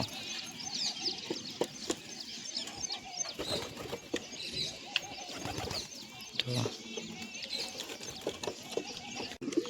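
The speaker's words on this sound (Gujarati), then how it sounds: "તો મિત્રો આ કબૂતર નીચે બચ્ચા છે" Pigeons coo and flutter close by their chicks, with soft rustling and occasional clicks, and a voice murmuring in the background.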